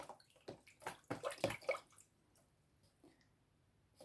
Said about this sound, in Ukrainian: а малючків зараз сполосну гарненько